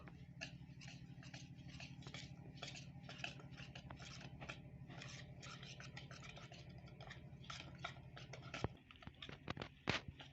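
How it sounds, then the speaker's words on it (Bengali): Whisked sour yogurt and semolina are stirred together in a bowl with quick, rhythmic scraping strokes that run steadily, then end in a few louder knocks and clatters. "টক দই আর সুজি ভালো করে মিশিয়ে নেবো"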